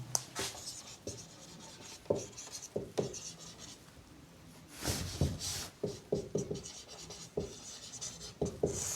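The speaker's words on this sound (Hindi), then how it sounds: "ठीक है, मैं यहाँ लिख लेता हूँ।" Chalk or marker scratching and tapping across a board in an English grammar lecture, in short irregular strokes over about nine seconds, close and moderately loud with no one speaking.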